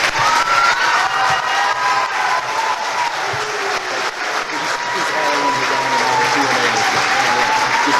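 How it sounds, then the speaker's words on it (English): An indoor audience applauds and cheers to welcome Browns running back Nick Chubb, sustained loud clapping mixed with whoops and crowd voices across the whole stretch. "One more round of applause and a welcome to Nick Chubb."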